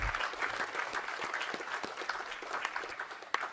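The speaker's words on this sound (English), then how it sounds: "one more round of applause for all of our speakers today" Audience applause for the afternoon guest speakers at an honoring and remembering event, a moderately quiet crowd clapping steadily with individual claps standing out, one sharp clap near the end.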